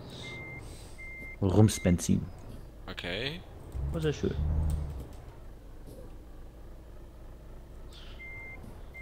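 Truck reversing beeps from a heavy truck in Euro Truck Simulator 2, a steady repeating tone heard faintly at the start and again at the end, interrupted by someone talking in the middle over low engine rumble.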